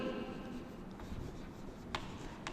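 Marker or chalk writing on a board during a maths lesson, a soft continuous scratching and rubbing with a couple of sharper taps, close and quiet.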